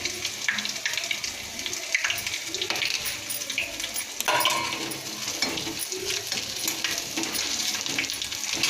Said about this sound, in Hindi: अब इसमें थोड़ी सी हींग डाल देंगे और ये अजवाइन डाल देंगे